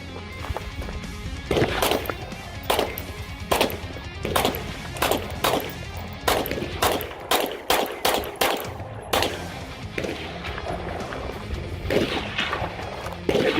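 Springfield Armory Hellcat 9mm pistol firing steel-cased and assorted brass ammunition outdoors in the desert, a long string of loud, sharp shots in irregular bursts, some in quick succession, with brief pauses between groups.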